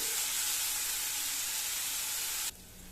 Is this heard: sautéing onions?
yes